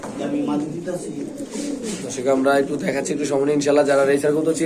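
Pakistani pigeons coo in soft, repeated calls, mixed in with nearby people talking throughout.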